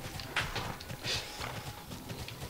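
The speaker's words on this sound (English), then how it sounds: "my horse is better than yours because look at my horse" Horse hooves clip-clop in the online game Tera, a steady, moderately close run of hoof strikes with a faint whinny-like accent, mixed with quiet game ambience and no talk.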